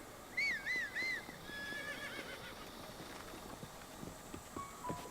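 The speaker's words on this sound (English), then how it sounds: "Let's not forget our horse either." A horse in the Zelda Breath of the Wild video game gives a few loud, close whinnies in the first second and a half, followed by a soft, steady clip-clop of hooves.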